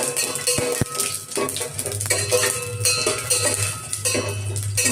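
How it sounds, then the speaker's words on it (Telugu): Whole garam masala spices are stirred in a pan, with metallic scraping and clinks of a utensil against the pan over a soft background sizzle, close and continuous. "కలిపిన తర్వాత అందులో ఈ గరం మసాలా సామాన్లన్నీ వేసేస్తున్నాం అన్నమాట. వేసి కొంచెం వేపించాలి."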